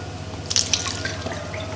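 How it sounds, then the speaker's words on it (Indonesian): Soy milk dripping through a filter as it is strained, with a few soft, close drips and trickles over a low steady background hum. "Supaya lebih bagus lagi, saya saring lagi sebelum saya masak."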